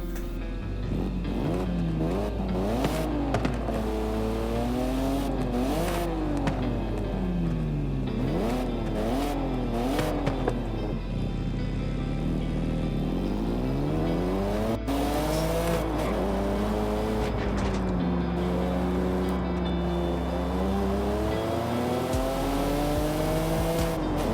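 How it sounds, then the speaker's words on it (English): A 1998 Mitsubishi FTO GP Version R with a 197 hp V6 drives hard, its engine note rising and falling through repeated revs and gear changes, loud and close throughout with a faint tire squeal. "hear what a 197 horsepower V6 can sound like"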